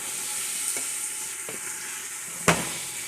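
Beef, pepper and tomato stir-fry sizzling steadily in a pot, with a few sharp utensil clicks and a louder scrape near the end; no voices.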